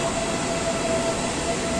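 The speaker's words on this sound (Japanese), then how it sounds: "この列車だと思います。" A train rumbles steadily at Hua Lamphong station in Bangkok, a loud continuous roar of rolling stock with a faint thin metallic whine running through it.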